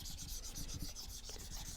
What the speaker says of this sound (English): Eraser noises.